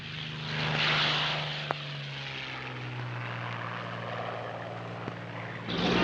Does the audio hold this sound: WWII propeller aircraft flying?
yes